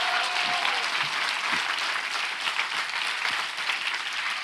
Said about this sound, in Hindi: come on, give a good clap for the Lord Jesus